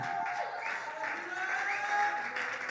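A church congregation applauds and cheers at a worship service, a steady wash of clapping and crowd noise that holds at an even level with voices mixed in throughout.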